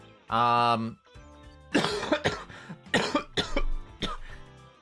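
A person with a cough, medicated with cough syrup, coughs in one loud, close, sustained burst of about half a second, then clears their throat in several sharp, close bursts.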